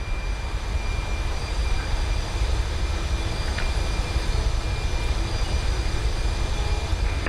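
Engines of a TFDi MD-11 jet airliner in Microsoft Flight Simulator hum as a steady, broadband roar during descent, with a faint constant whine throughout.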